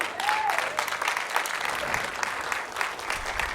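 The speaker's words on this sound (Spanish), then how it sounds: "Denle un fuerte aplauso." Steady, dense applause from a church congregation fills the hall with continuous clapping, and a brief voice is heard near the start.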